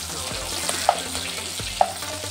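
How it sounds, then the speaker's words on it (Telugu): Beans and potatoes frying in a pan for veg pulao, a close, steady sizzle broken by a couple of sharp utensil clinks and stirring movements, with no one talking. "బీన్స్, పొటాటో కొంచెం ఫ్రై అవ్వాలి."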